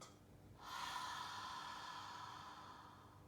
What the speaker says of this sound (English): So take a deep breath in and out.